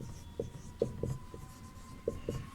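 Pen writing out answers to Sanskrit homework questions in a Class VI lesson, a quiet scratchy stroking with several short distinct strokes spread across the moment, close and alone without any talk.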